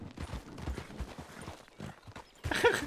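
Horse hooves clip-clop at a walk in the video game RedM, a brief run of soft, uneven steps with a slightly louder burst at the end.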